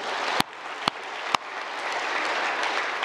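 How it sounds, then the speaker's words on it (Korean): A church congregation at a Sunday worship service gives a round of thankful applause, dense, even clapping that fills the room, with three sharp loud claps standing out early on. "우리 하나님 앞에 이 좋은 환경을 만들어 주신 주님 앞에 감사 박수 한번 드립시다"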